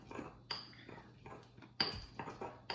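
Flowers are smushed with a pestle in a watery mix, giving repeated short grinding knocks and clinks in bursts, fairly close and quiet, with no talk.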